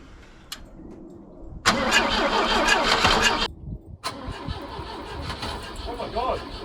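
An abandoned Volvo 245 barn find, left for 19 years, cranks with a starter whir, then catches and runs roughly, falls quiet briefly and starts again. It sounds close and loud, with voices talking around it.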